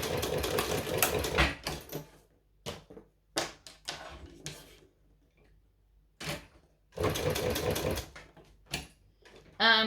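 A sewing machine stitches a leather strap in short separate bursts, close and fairly loud, with quiet pauses between the runs of stitching.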